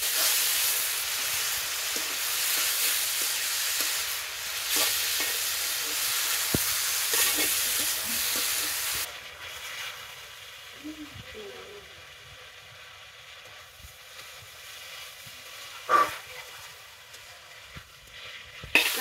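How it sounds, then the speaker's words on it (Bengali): Small fish with turmeric and chili sizzling and being stirred in a pan, a loud broad hiss for the first half that drops to a quieter simmer with occasional utensil clinks and knocks, close up, in a village kitchen. "একটু নাড়াচাড়া দিই।"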